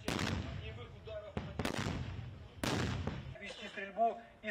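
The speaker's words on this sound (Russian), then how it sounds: "Вы наблюдаете, как противник наносит огневое поражение по позициям." Sharp, heavy artillery blasts strike in a few separate bursts during joint Russia-Belarus military drills, each trailing off into rumbling noise, with talk faintly mixed underneath.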